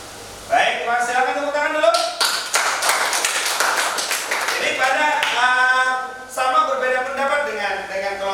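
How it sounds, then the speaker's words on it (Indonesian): Children clapping in a school classroom during an Islamic religious studies lesson, a burst of hand claps over roughly four seconds mixed with voices, with a teacher talking before and after. "silakan tepuk tangan dulu"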